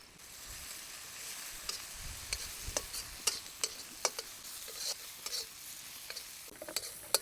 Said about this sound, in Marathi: आपल्याला हे परतून घ्यायचं आहे मस्त परतून घ्यायचं आहे